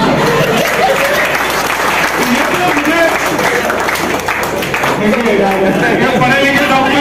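A large crowd claps at a comedy poetry show in Darbhanga, a loud continuous wash of applause with a voice talking over it throughout.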